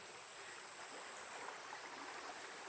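A river stream flows at the riverside, a soft, steady broadband rush of water heard from a little distance with no talking.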